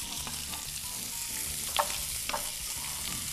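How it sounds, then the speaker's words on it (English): Potatoes, carrots, broccoli and fresh-cut corn kernels sautéing in a pan, a steady close sizzle with a couple of louder scraping stirs, no talk. "We're gonna stir them, saute them around a little bit"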